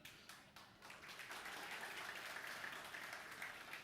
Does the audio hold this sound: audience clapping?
yes